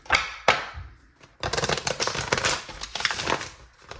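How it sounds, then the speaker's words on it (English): A Lord of the Rings tarot deck is shuffled by hand, with two sharp card snaps at first, then a dense run of rapid riffling and flicking, close and fairly quiet. "This is one of my favorite decks to shuffle."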